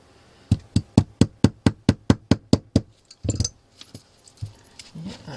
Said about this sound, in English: Get the universal knocking tool out.